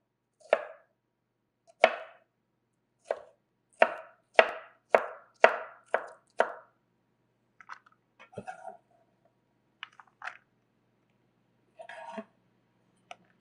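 A knife chops and dices a pepper on a board for a Southern chili, with about eight crisp, evenly spaced strikes followed by a few quieter, scattered cuts and scraping, close and clear with no talk.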